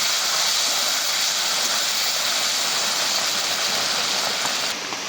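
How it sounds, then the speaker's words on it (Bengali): Cut taro and potatoes frying in hot oil, a loud, dense, continuous sizzle and hiss with no voices. "এবার তেলের ওপর দেব কেটে রাখা কচু আর আলু। খুব ভালোভাবে ভেজে নেব।"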